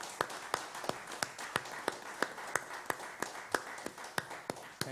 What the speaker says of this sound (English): we'd like to give you an applause for the Government of Assam, please